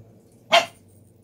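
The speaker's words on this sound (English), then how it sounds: "Sorry about the dog." A single sharp dog bark, fairly close, against a low steady background hum.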